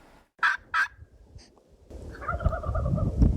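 A wild turkey gobbles in two quick, loud rattling bursts near the start, followed by a faint call and then an outdoor rumble of wind or handling noise.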